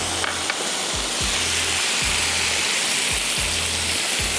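Ground onion paste with ginger garlic paste frying in olive oil and butter, a loud continuous sizzle close up with regular low thuds from stirring or scraping in the pan.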